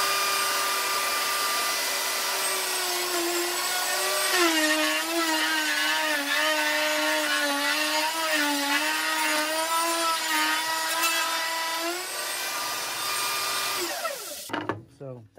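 A power saw cuts through the end of a wooden board inside a school bus being converted into a tiny home. A loud, steady motor whine wavers in pitch as it bites, runs for about twelve seconds, then cuts off with a clatter.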